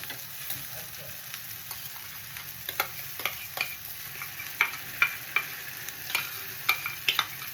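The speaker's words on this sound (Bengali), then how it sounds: "এরপরে আমি সর্ষে লঙ্কার পেস্টটা দিয়ে দেবো।" Mustard and green chili paste stirred into hot oil in a pan for a spicy kachki fish dish, giving a steady low sizzle with scattered sharp scrapes and taps of a spoon, growing busier toward the end.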